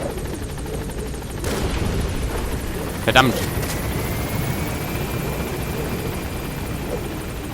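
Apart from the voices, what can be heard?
helicopter hovering overhead in Metal Gear Solid 5 video game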